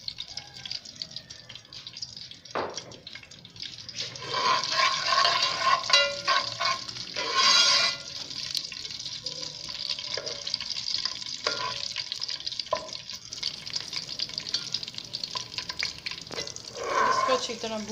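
Curry leaves, black peppercorns and cumin seeds sizzle in hot ghee, a steady broadband crackle with sharper spits and bursts as spices hit the fat, plus occasional stirring scrapes, close and fairly loud.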